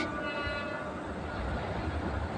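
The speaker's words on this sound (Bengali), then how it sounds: "তো ক্যামেরা আবার ঘুরাইতে দেখি যে একটা ট্রেন আসতেছে" A long passenger train carrying people on its roof rolls past nearby, a dense, steady rumble and rattle of wheels on rails throughout.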